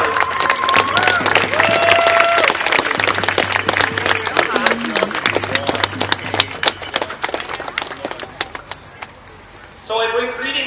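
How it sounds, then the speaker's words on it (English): A crowd applauds at a public gathering: a dense patter of claps rises and thins over about ten seconds, mixed with voices and background noise. "Let's give a round of applause"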